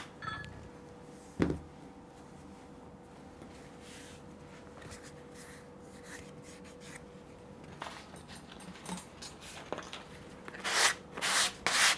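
Sandpaper wrapped on a wooden block rubs along the side of a handmade wooden slipcase box, soft close scraping strokes with a sharp knock early on and louder, faster rubbing bursts toward the end.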